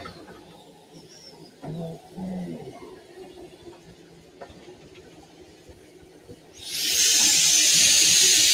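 A loud, broad steam hiss from a historic US-built steam locomotive in Hokkaido, Japan, bursts in and holds steady near the end, after a stretch of low rumbling and faint clanks.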